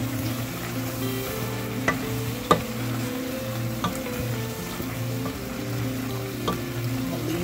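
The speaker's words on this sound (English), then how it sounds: "Give it a little stir." Asparagus sizzling steadily in a hot pan for a keto meal, with a few sharp scraping knocks as it is stirred, close and fairly loud, no talking.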